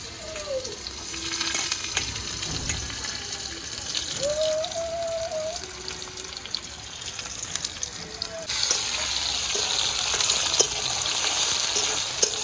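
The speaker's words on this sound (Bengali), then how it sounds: "আলুটা একটু হালকা ভেজে নিয়েছি" Sweet potato pieces frying in hot oil with bay leaf and spices, a continuous close sizzle with occasional stirring scrapes, growing brighter and louder toward the end.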